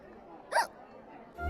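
A single sharp hiccup sounds out near the start, brief and clear, in a quiet room with a low rumble rising at the end and a voice speaking.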